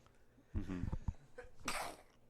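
One close, sharp sneeze bursts out after a short intake of breath, preceded by a brief murmur from a voice, during a relaxed conversation between friends.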